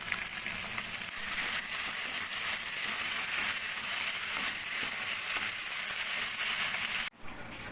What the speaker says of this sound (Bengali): আমি ভালো করে ভাজা ভাজা করে নিয়েছি